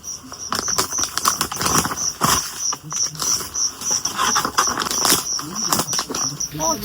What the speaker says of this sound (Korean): 지금 비가 와요. 안개비였다가 지금 조금 더 내리고 있습니다.